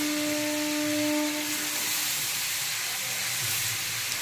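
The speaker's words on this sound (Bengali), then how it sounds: "বেরোনোর পরে এটাকে আমি খুব ভালো করে ভাজা ভাজা করে নিচ্ছি" Watermelon and papaya curry fries down in a pan, a constant broad close sizzling hiss with a brief tonal hum early on, no voices.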